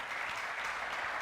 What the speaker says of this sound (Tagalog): Tuloy natin yung palakpak sa Lord.